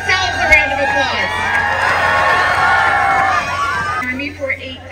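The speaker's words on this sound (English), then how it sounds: "So give yourselves a round of applause." A large crowd at an outdoor holiday train event cheers and whoops loudly, a sustained mass of shouting voices, some of them children's, fading near the end as a voice begins to speak.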